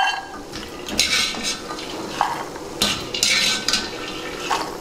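Roasted phool makhana (fox nuts) is scraped and stirred out of a hot pan into a bowl, making close, bright metallic scraping and rattling in several short bursts.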